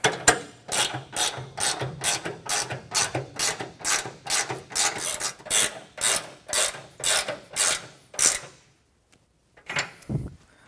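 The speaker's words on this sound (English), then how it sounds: "We'll go ahead and tighten them up by hand." Hand ratchet tightening grade 8 half-inch bolts, a long run of quick clicking bursts in a steady back-and-forth rhythm, close and clear, ending with a pause and one last short burst.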